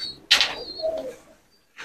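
Deobandi pigeons coo close by: a sharp flutter-like burst, then a soft rolling coo, with another short sound at the end.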